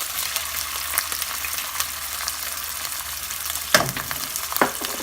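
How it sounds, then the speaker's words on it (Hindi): Ginger garlic paste fries in hot oil with a steady close sizzle, broken by a few sharp crackles and stirring scrapes, with no talk. "हम इसमें डालेंगे अदरक लहसुन 1 टेबल स्पून, भून लेंगे।"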